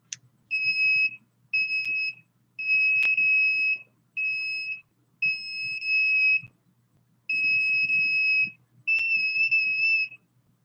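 An electronic alarm sounds during chest tagging with shielding, emitting a series of about seven shrill high-pitched beeps of varying length separated by short silences, close and loud.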